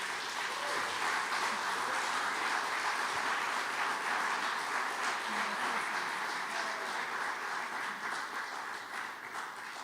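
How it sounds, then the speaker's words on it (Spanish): A church congregation claps steadily in a dense, continuous wave of applause during a Spanish-language service, heard from within the room and fading slightly toward the end. "Vamos a darle un aplauso a nuestro Dios"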